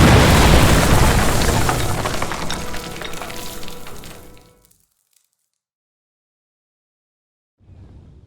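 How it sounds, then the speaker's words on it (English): A loud explosion in Kingdom Come: Deliverance II, a deep booming blast whose rumble and debris fade over about four seconds into silence, followed by a faint low sound at the end. "Damn, that was some bang."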